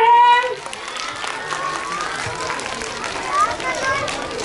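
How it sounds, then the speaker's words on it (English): Audience clapping at a primary school poetry recitation competition, a steady wash of applause from children and adults under scattered chatter and a few voices, fairly loud throughout. "Everyone clap for him."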